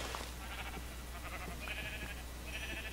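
Sheep in the video game Minecraft bleat several times in short, wavering calls that follow one another closely, heard at moderate volume over a quiet game background.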